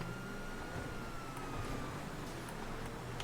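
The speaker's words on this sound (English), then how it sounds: "let's go ahead and hear the siren" Police siren of a Vapid Unmarked Cruiser in GTA V, a faint wailing tone that sweeps steadily over a dense road-noise bed, with no talk over it.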